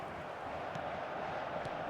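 A large stadium crowd in the football video game eFootball 2026 roars and applauds in a broad, steady wash of noise.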